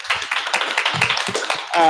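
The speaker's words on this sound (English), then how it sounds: "Can we give a round of applause to our candidates who are participating in It's in the Ballot?" An audience claps for election candidates at a regional council event, a brief burst of dense applause under a voice.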